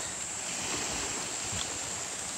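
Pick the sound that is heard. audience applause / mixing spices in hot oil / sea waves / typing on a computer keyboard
sea waves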